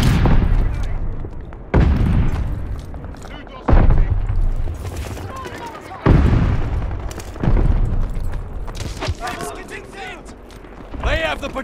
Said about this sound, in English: Tossing grenade! Throwing stun grenade!